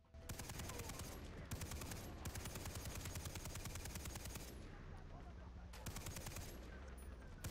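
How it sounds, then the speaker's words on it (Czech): Rapid bursts of gunfire in the video game Far Cry 3, automatic weapons rattling in long strings with brief pauses between volleys. "on střílí do stromu radši"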